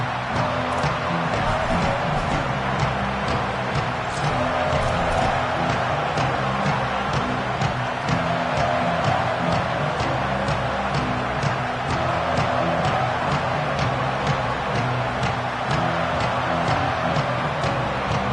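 A loud, unbroken stadium roar from a football video game crowd at a kickoff, dense and steady throughout with no pauses.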